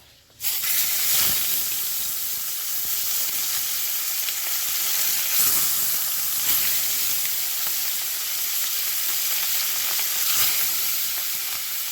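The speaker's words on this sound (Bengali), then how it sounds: "চলুন মাছগুলো ভেজে নিই ভালো করে লাল লাল করে মাছগুলো ভেজে তুলে নেব" Fish fry in hot oil with a loud, continuous sizzle and hiss that starts abruptly and stays steady, close up, with no speech.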